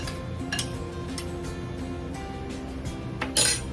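Spoon clinking against a bowl while stirring lemon juice into peach cobbler filling, a few light scattered taps and scrapes with one louder clink near the end, close and quiet without talk.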